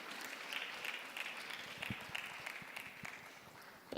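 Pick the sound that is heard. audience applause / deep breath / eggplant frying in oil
audience applause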